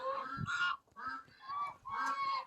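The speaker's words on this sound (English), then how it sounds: "And the geese are expanding further out." Geese honk repeatedly in a close, loud series of nasal calls, several overlapping in quick succession.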